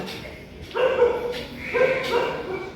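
A dog gives a few short, high yipping barks with whiny tones, close by, in two quick bursts.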